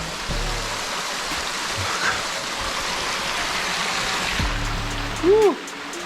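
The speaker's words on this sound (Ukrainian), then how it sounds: "Водичка дзюрчить, а ми пробираємося. Водопадик невеличкий." A small waterfall and babbling stream give a steady, even rush of water throughout, with a brief voice sound near the end.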